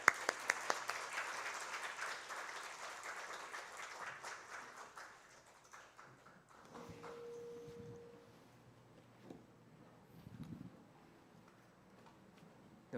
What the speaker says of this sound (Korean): 우리 다시 한번 큰 축복의 박수 하겠습니다